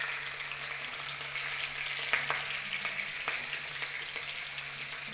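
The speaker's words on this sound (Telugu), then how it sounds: "పోపు దినుసులు వేగినవి పచ్చిమిర్చి వేసుకుందాం." Tempering spices and green chillies sizzle steadily in hot ghee in a pan, a dense continuous crackle with a few sharper pops and occasional stirring, close and without speech.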